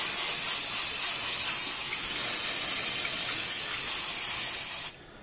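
Freeze spray hissing onto Simson motorcycle engine casing parts, a loud, continuous close spray for about five seconds that cuts off sharply at the end, with no talk.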